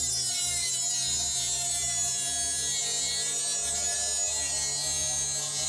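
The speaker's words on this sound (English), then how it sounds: "I'm just going to go ahead and use a cutting disc, get in this tight area here to cut this area out" A Dremel cutting disc bites into PC case metal with a high, steady whine and a sharp grinding buzz, close and fairly loud, its pitch dipping slightly as the disc loads up in the cut.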